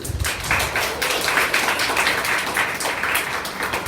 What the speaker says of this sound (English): let's give all of the speakers a round of applause